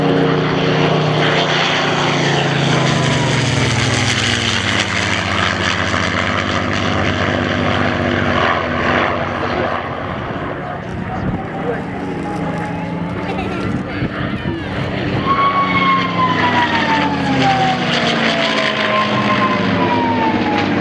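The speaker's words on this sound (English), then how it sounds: "From their scoop under the fuselage, which makes a whine." A propeller aircraft flies past at the Shoreham RAFA air show, its engine drone sweeping by with a rising whine from the scoop under the fuselage. A commentator talks over it throughout.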